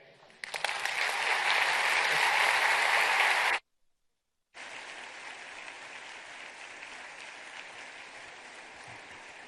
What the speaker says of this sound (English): another round of applause for Mr. Mark Zuckerberg